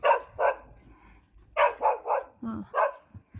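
A dog barks in bursts, two sharp barks, then a cluster of three, a lower yelp and one more bark, close by and loud, with no speech over it.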